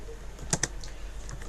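Brief computer keyboard typing, two quick key taps followed by fainter clicks, close up over a noisy background hum.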